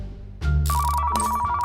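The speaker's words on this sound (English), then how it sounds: "Shut up, phone." A telephone rings loudly inside a car-repair simulation game, its steady electronic trill starting abruptly and sounding on without pause.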